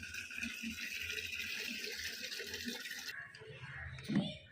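Water is poured from a clay pot for the Bhogi festival, a soft, steady, quiet trickle that shifts in tone near the end, where a brief splash follows.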